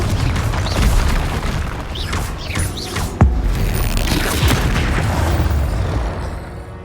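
In the Hogwarts Legacy video game, a Confringo spell blasts with a loud booming explosion amid rumbling combat effects, with a sharp crack about midway and a sustained heavy low roar throughout.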